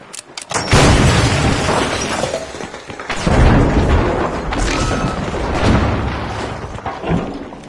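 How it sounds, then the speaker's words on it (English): A detonated charge goes off in the arena shooter The Finals: a loud close blast with shattering debris and crashing rubble, followed by further booming impacts and breaking sounds over several seconds, no voices. "Ready to detonate!"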